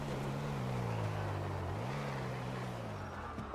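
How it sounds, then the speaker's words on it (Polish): A car in GTA V drives past close by, its engine drone rising and falling in pitch over a steady broad rush of road and wind noise. "Ta fura znowu kurwa obok nas przejeżdża."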